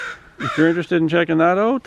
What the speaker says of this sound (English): if you hear birds mumbling or cawing